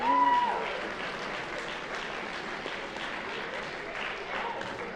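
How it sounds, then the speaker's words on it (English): Audience applause at a school award show, a steady wash of clapping that starts loud and settles into a sustained, moderately distant roar for several seconds. "Please give a round of applause to the new SAC leadership team."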